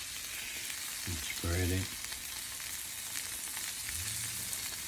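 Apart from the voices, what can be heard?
stuffed egg mixture frying on the stove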